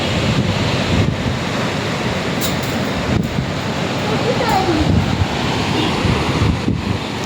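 Sea waves roll in at Kuakata beach under gusting wind, a loud low rumbling wash with wind buffeting the microphone, and voices can be heard talking over it.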